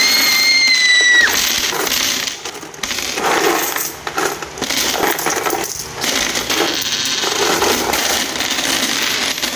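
Coins pour out of an opened piggy bank in a loud, continuous metallic jingle and clatter, close up and sustained throughout with a few brief dips.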